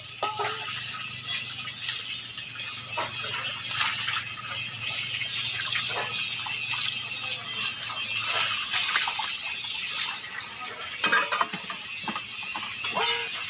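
Water gushes steadily from a hose pipe into a pot, a continuous splashing rush with faint rattling knocks of the metal vessel throughout, close and fairly loud.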